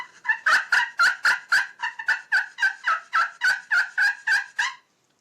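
An acrylic turkey call scratched to give a rapid series of about sixteen sharp, raspy yelps in a steady rhythm, close and loud, then stopping.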